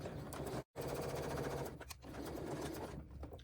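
A sewing machine stitches fabric while a strap is fed through, the needle's rapid mechanical chatter steady and close, pausing once briefly, then resuming and running on without talk.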